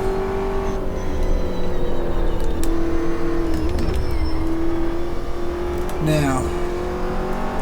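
Race car in Automobilista 2 droning at steady revs, its engine note shifting slightly and climbing as it accelerates, with someone talking over it.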